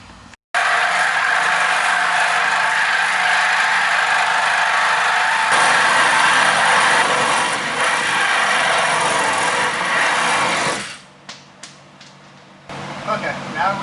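A steel bolt head on a Ford F150 is cut off with a power tool, giving a loud, steady, high-pitched grinding whine for about ten seconds before it stops and short bursts follow.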